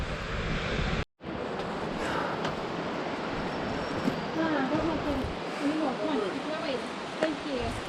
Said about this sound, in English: We found the big waterfall.